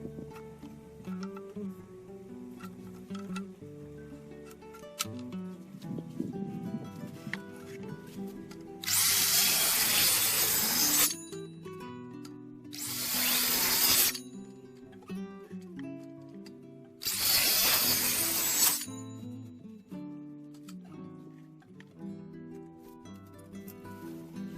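A power saw cuts the ends off timber skids while framing an outdoor kitchen floor, three loud bursts of cutting noise a few seconds apart, with quieter handling and knocking sounds in between.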